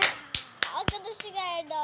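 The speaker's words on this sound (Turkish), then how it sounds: "Alkış." A few sharp hand claps land at uneven intervals over about two seconds, mixed with tonal sounds during a Brawl Stars mobile game session.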